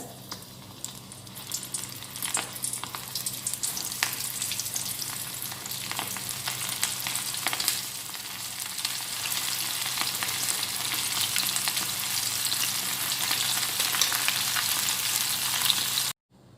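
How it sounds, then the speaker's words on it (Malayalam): Batter-coated cauliflower for gobi manchurian deep fries in hot oil, giving a loud, dense, steady sizzle with no voices that runs unbroken until it cuts off at the end. "നമ്മൾ മാവിൽ കോട്ട് ചെയ്ത് വെച്ചിരുന്ന കോളിഫ്ലവർ എല്ലാം ഫ്രൈ ചെയ്തെടുത്തിട്ടുണ്ട്"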